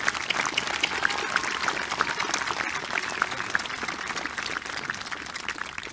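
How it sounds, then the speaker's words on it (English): Sustained audience applause at a 2021 high school commencement for graduates with distinction, an even wash of many hands clapping at moderate level, fairly distant, with no speech over it. "Let's give our graduates with distinction a round of applause"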